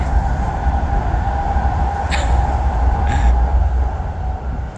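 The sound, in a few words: bullet train passing by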